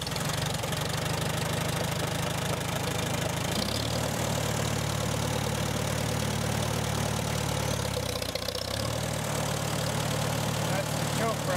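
A 1945 Farmall tractor engine runs steadily close by, a low rumbling idle with a knocking pulse that shifts pitch slightly twice as the speed changes, with a person talking over it.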